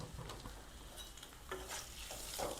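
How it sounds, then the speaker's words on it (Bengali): A handful of chopped onions sizzling in hot oil in a pan while being stirred, a soft steady crackle with occasional scraping clinks of a utensil, close and fairly quiet. "পেঁয়াজটাকে একটু লাল করে ভেজে নেব।"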